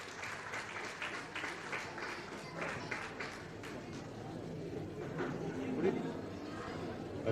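Sustained applause from a gathered audience at a Jain puja ceremony honoring Acharya Vidyasagar at Chandragiri Tirth, Dongargarh, steady clapping throughout with crowd murmur and voices mixed underneath.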